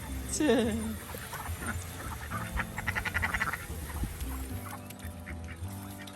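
Ducks and geese on a homestead call out in honks and quacks, one loud burst near the start and then busier squawking under talk and farmyard noise.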